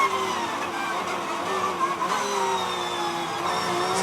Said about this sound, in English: You could see him hustling the car there to try and break away from Grenier